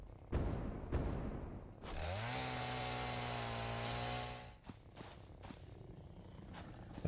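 In Satisfactory, a one-handed chainsaw used from a ladder cuts a tree, with a few thumps, then a steady buzzing engine drone lasting a few seconds before it cuts off into scattered clunks.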